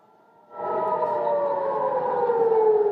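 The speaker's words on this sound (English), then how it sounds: "air raid sirens blared across Israel" An air raid siren blares across Israel, starting abruptly and then holding a loud, sustained wailing tone that drifts slowly downward in pitch.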